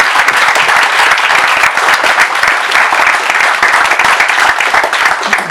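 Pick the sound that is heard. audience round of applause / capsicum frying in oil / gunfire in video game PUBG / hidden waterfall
audience round of applause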